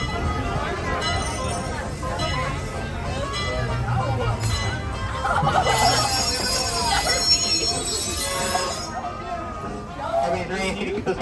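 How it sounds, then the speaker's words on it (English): The Disneyland Railroad train rolls along with rumbling wheels and brief squeals, while riders chatter and a public-address voice talks over the steady clatter. "The train comes to a full stop."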